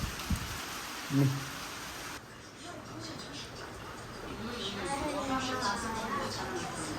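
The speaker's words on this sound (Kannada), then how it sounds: "ಮಳೆ ಅಂದರೆ ಜೋರಾಗಿ ಬರ್ತಾಯಿಲ್ಲ, ಜೋರಾಗಿ ಬರ್ತೈತೆ, ನಿಂತೋತೈತೆ" Steady hiss of rain falling, slightly rougher and louder in the second half, with a faint murmur of voices underneath.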